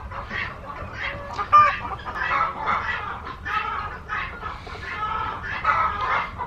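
A live chicken clucks and murmurs repeatedly, close and fairly loud, with one sharper squawk, as it is readied for processing with minimal equipment; no one speaks.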